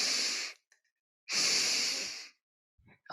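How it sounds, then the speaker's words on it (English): Two long, loud breaths drawn in close to the mic during Tibetan yoga practice, separated by a short silence, with a faint breathy trace before a final brief inhale starts. "We'd do a double inhale."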